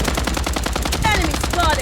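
In the battle royale video game Blood Strike, a rapid automatic gunfire burst rattles on without a break. The shots come close and loud in a fast, even rhythm, with shell casings tinkling over them partway through.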